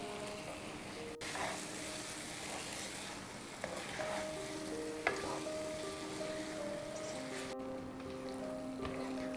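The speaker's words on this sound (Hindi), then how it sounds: "अब हम इसमें पनीर डाल लेते हैं और सभी को एक बार फिर से मिक्स कर लेते हैं।" Paneer cubes tossed into a kadai of oil-released masala and mixed, a continuous crackling sizzle with periodic spoon scrapes and a couple of sharp knocks against the pan.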